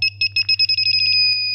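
A refrigerant leak detector held at a leak on a gas/water heat pump beeps in a rapid string of steady electronic tones that speed up and merge into a continuous alarm, loud and close.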